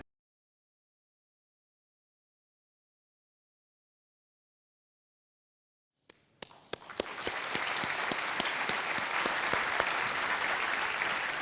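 A studio audience on a television quiz show breaks into applause after six seconds of silence, with scattered early claps swelling into dense, sustained clapping.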